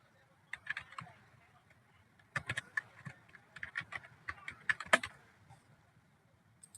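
Soft, quick keystrokes on a computer keyboard while an email and password are entered, coming in short irregular bursts with brief pauses, close and quiet.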